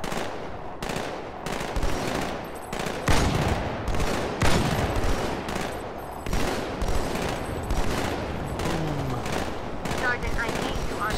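Rapid bursts of gunfire from sniper rifles and other weapons in the video game Halo 2, loud and continuous with dense overlapping shots throughout, a voice talking briefly among them.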